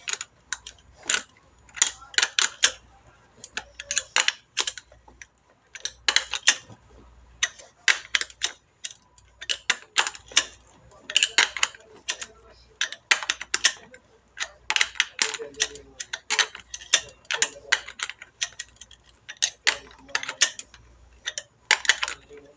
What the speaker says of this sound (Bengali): এই যে আমি এখন 1-2 প্যাচ করে টাইট দিয়ে দিচ্ছি স্পুকগুলোকে একটু হার্ড করার জন্য।